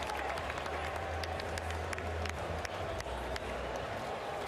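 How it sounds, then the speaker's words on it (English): A large crowd at the 2014 NFL Draft applauds steadily after Mike Evans, Texas A&M wide receiver, is picked seventh by the Tampa Bay Buccaneers, with sustained clapping and a faint murmur of voices. "Johnny Football applauding his teammates"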